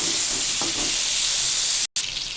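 Eggplant frying in oil with onion, garlic and ginger paste, a steady close sizzle with a few soft stirring scrapes and a brief cut near the end.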